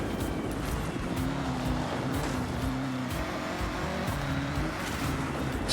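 Cars drift through a race in the video game Forza Horizon 6, engines droning steadily with a wavering pitch and faint tire noise, a continuous close roar with no talk.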